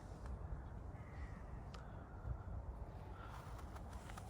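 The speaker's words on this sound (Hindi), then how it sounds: "ये देखें जी, ये कौवा मैंने बहुत अरसे बाद देखा है यहाँ पे।" A crow caws a few times at a distance outside a church car park in Norway, the calls faint above a steady low rumble of outdoor background noise.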